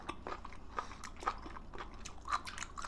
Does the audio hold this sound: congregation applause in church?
no